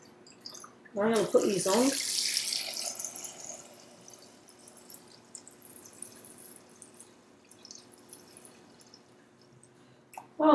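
Vegetables rinsed under a running kitchen tap, a burst of gushing water near the start that settles into a quieter trickle and drips, with a person speaking briefly over it.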